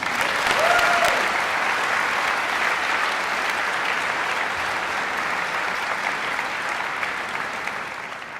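Sustained audience applause fills a College of Architecture graduation ceremony hall, dense and steady from a large crowd, slowly tapering near the end.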